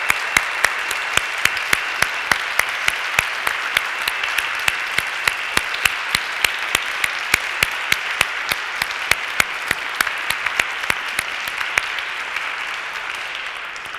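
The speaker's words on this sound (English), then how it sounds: "So let us give the round of applause for the adult choir," A cathedral congregation applauds the adult choir at a Pentecost service, steady sustained clapping with a few louder individual claps standing out, filling the space for several seconds before thinning toward the end.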